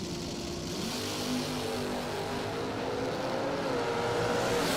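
A doorslammer drag race car, a Nova, roars down the Napa side of the strip at the American DoorSlammer Nationals, its engine a loud, steady, sustained drone with a rising whine throughout.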